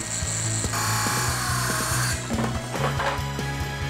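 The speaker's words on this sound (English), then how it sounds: "We'll now be using a circular saw to cut this" A circular saw cuts through an MDF board, a loud close whine with rough buzzing that grows harsher in the first two seconds, then keeps running with a steady rhythmic grind.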